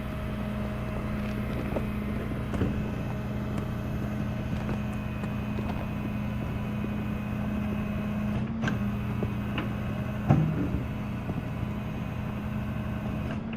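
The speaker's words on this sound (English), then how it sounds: "I'm just gonna winch you back right over that pile, okay?" A rollback truck's winch pulls a loaded U-Haul back over a pile in a driveway, giving a steady low mechanical drone and engine hum throughout with a couple of brief clanks, no talking.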